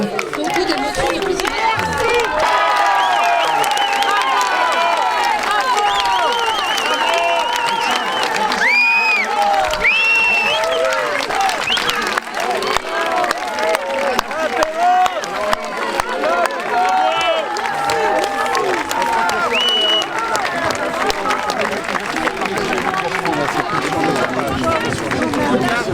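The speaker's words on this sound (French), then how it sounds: "On continue à l'applaudir, on fait une haie d'honneur pour l'accompagner jusqu'au podium ici." A large crowd at a Paris support demonstration applauds and cheers Professor Perronne, forming a guard of honour as he walks to a podium. Dense, steady clapping and shouting voices fill the whole stretch at close range.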